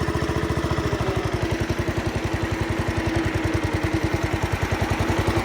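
A small engine with past carburetor trouble runs steadily nearby, its even, rapid low-pitched firing pulses holding a constant idle-like rhythm without stumbling throughout.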